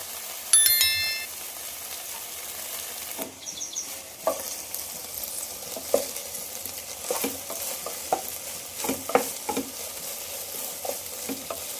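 Okra (ladies' finger) frying with tomatoes in a pan. A steady low sizzle runs throughout, punctuated by repeated spatula stirs and scrapes at an irregular rhythm, with a few brief bright clinks near the start.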